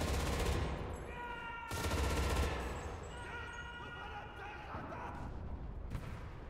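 Machine gun fire in the video game Enlisted: two loud, rapid bursts of automatic shots, then lighter distant gunfire with a faint tonal ring underneath.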